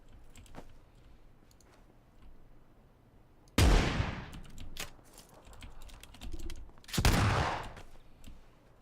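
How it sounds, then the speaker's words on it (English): Two loud, close blasts from an S12K shotgun ring out a few seconds apart in PlayerUnknown's Battlegrounds, each with a sharp attack and a brief decaying tail over quieter background game sounds. "What gun is that? That's an S12K."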